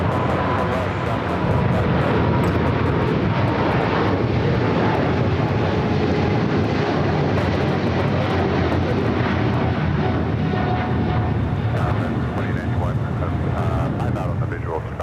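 An Austrian Airlines jet takes off at LAX, its engines producing a loud, continuous broadband roar that holds steady for the whole stretch, with faint radio-style speech mixed underneath.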